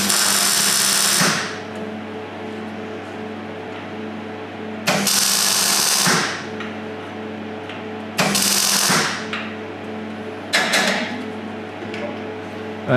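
Tack welding a battery tray into a car frame produces four separate bursts of harsh crackling, each about a second long, spaced a few seconds apart over a low background hum.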